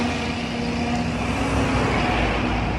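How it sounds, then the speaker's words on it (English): Two big concrete trucks roll past on a street, a loud, steady roar of heavy engines and tires swelling gradually, heard close from the roadside with no talking. "two big trucks going by"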